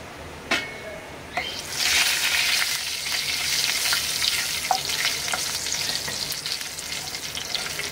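Asafoetida and cumin tempering hitting hot oil, bursting into a loud, steady sizzle after a couple of sharp clinks, with occasional stirring scrapes and crackles over the continuous hiss.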